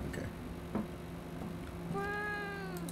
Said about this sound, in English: It's just the cat, bro.